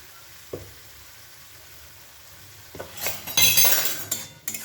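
Spice masala is sautéed in a pan, quiet at first and then rising into a loud sizzle with scraping and clinking of a metal utensil against the pan toward the end.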